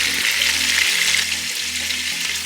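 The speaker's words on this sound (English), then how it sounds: "So while the shrimps are frying in there" Shrimp frying in a hot pan, a steady bright crackling sizzle with a low hum beneath, close and continuous.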